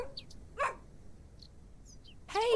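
A dog barks in the point-and-click adventure game The Excavation of Hob's Barrow: two short barks, the second louder, separated by quiet with a few faint chirps.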